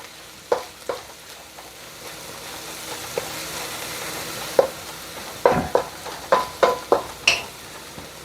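Spinach and garlic sizzling in a pan, a soft continuous fry punctuated by several sharp stirring scrapes and clicks toward the end.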